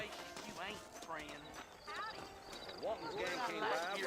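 Horse hooves clip-clop in the Red Dead Redemption western video game, a steady near rhythm of hoofbeats with a brief whinny, running under talk and game music throughout.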